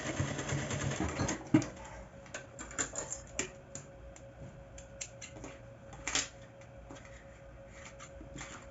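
A sewing machine stitches fabric for a tote bag in a series of short, rapid mechanical bursts with pauses between them. It sounds close and fairly quiet, with small handling clicks and no talk.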